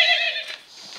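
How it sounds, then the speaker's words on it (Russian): A horse in the video game Minecraft gives a short, bright whinny that fades out within a second, loud and alone. "Лошадка из майн."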